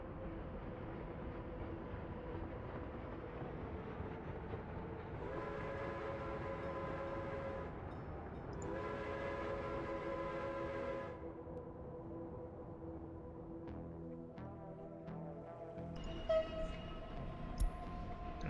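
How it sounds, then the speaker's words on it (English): A train rolls along the rails in the video game Horses & Resources with a steady rumble and layered tonal hums. Two sustained whistle-like blasts sound in the middle, and a few clanks come near the end. "And the other train can move now."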